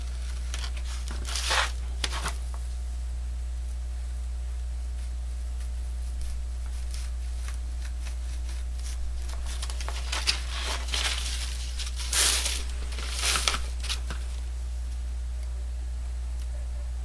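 Scattered snips and crisp tearing sounds of scissors cutting out a model rocket shock cord mount, in irregular bursts with pauses, over a steady low hum.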